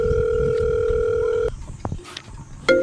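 Phone call tone while ringing a mechanic about a new motorbike that won't start: a steady electronic tone held for about a second and a half, then breaks off into short beeps and faint clicks.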